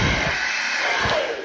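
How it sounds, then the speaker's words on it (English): A handheld hair dryer runs steadily during a basic blow-dry session in a hair salon, a constant close whooshing drone of air with slight fluctuations and no speech. "for the hairdryer, once switched on, it sucks air through the back and it comes out the front"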